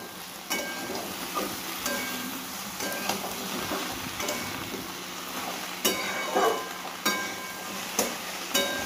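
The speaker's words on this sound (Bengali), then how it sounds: "তারপরে মশলা দেবো, একটু ভালো করে কষিয়ে নিই।" Spice paste for Bengali shukto sautéing in a pan: a steady hiss of frying, with regular scraping and stirring knocks from the spatula against the pan, close and continuous.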